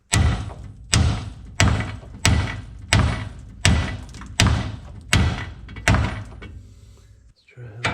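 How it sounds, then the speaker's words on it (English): A steel hammer strikes a tie rod on a VW Vanagon front suspension eight times in a steady rhythm, each loud clang ringing briefly before the next blow, close by. "Let's go get a steel hammer."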